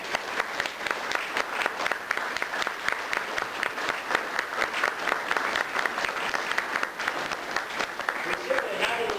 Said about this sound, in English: Give a round of applause, first of all.